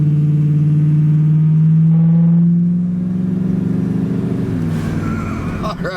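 A 1964 Studebaker Avanti engine roars close by on its four-barrel carburetor, its deep droning pitch climbing steadily as it accelerates hard, then easing off into a lower rumble.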